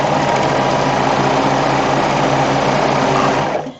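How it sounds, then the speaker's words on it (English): Serger sewing machine stitching over an existing fabric seam, a fast, rapid mechanical whirr at close range that runs steadily and then winds down abruptly at the end. "I'm going to stitch right over that previous seam"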